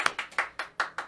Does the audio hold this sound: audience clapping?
yes